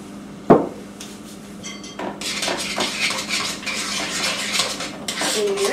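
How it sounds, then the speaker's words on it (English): A spoon works cream cheese and brown sugar together in a big mixing bowl, giving steady scraping and clinking against the sides after an initial sharp knock, close and continuous with no talk. "And mix it up really good."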